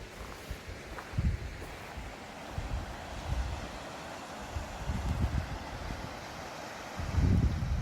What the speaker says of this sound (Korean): 물소리가 아주 좋습니다.